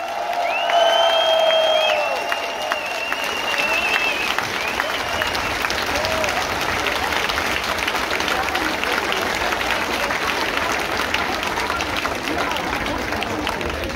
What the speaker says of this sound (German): mal einen Applaus für unseren David!